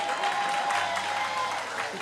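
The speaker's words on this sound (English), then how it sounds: "Clap it up one more time for our Dr." Audience at a community P.O.W.E.R. session applauding a doctor, a steady wash of clapping with a faint voice underneath.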